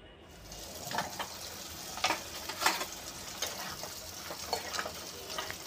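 Pangas fish frying in a pan sizzles steadily, with a dense crackle and scattered brighter pops and spatters that rise and fall, heard close and alone.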